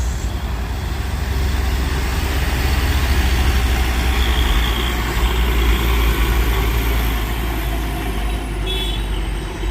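A Hino box truck and trailer labouring on a steep hill, a loud, deep diesel engine rumble that drones continuously and close by, swelling slightly in the middle.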